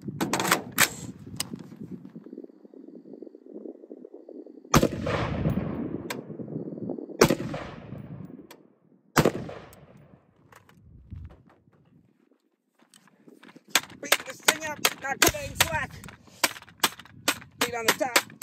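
Gunshots are fired at a CVLIFE JackalHowl red dot sight. A few loud, sharp reports ring out across the span, and a rapid burst of cracks and clattering comes near the end.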